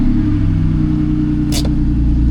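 A BMW E46 330Ci with a welded differential, set up for drag racing, rumbles loudly and steadily at close range, its deep low drone continuous throughout, with a brief hissing burst partway through and no talking.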